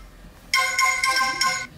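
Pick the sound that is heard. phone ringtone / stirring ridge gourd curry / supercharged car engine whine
phone ringtone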